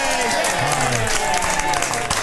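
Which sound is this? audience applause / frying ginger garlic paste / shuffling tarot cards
audience applause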